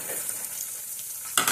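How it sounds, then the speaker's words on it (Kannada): Paneer cubes dropped into hot oil and frying, a faint steady sizzle with a brighter crackling burst near the end, heard alone with no voices. "ಇವಾಗ ಎಣ್ಣೆ ಕಾದ್ಮೇಲೆ ನಾನು ಇದಕ್ಕೆ ಪನ್ನೀರ್ ಹಾಕ್ತಾ ಇದ್ದೀನಿ."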